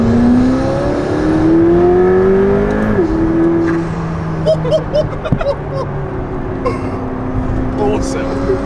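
A McLaren P1 engine revs while driving: a loud rising and falling engine tone up close, with sharp pops and crackles toward the end.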